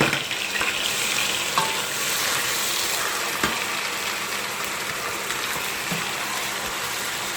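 Garlic ginger paste, one tablespoon, frying in oil with lightly browned onions for aloo matar keema, giving a steady close crackling sizzle with occasional stirring clinks throughout.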